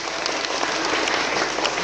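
Applause from an audience at a church outreach and social service gathering, a dense steady wash of many hands clapping throughout, fairly loud and close, with no talk over it.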